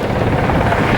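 A helicopter hovers low over the sea at an airshow, its steady rotor thrum loud and continuous throughout the brief moment.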